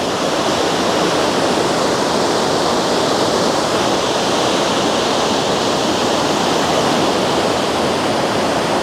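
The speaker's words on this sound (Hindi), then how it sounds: "मैं आपको दिखा दूँ यहाँ से गौरीकुंड के पास से ही पानी का बहाव कैसा जा रहा है इस वक्त" Rushing river water flowing past Gauri Kund on the Kedarnath route, a loud, steady broadband roar close by that holds without a break, with no voices over it.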